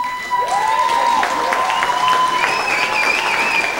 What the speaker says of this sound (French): Une bonne main d'applaudissements pour mon collègue et ami